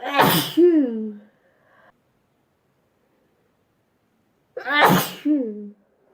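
Two loud, close sneezes several seconds apart, each a sharp voiced burst with a short trailing breath, separated by silence.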